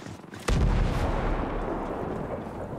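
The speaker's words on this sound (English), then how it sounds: "Sniper's about to fire on us." Sniper rifle gunfire in the video game Ghost Recon Breakpoint: a single heavy, booming shot close by, followed by a long rumbling echo that slowly fades.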